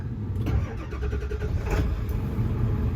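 A 2001 Ford F-550 utility service truck with a 7.3 Powerstroke diesel cranks and catches, then settles into a steady, loud, close idle rumble with a brief surge partway through.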